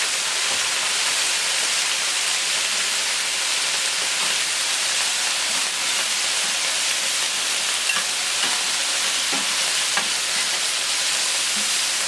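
Water hits a hot plancha where Cajun-spiced chicken fillets are cooking, giving a loud, continuous sizzle and hiss that holds steady throughout with no voices.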